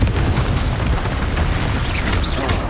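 Repeated Confringo fire-blast spell in the video game Hogwarts Legacy, a dense, continuous booming rumble of explosive bursts with no talk.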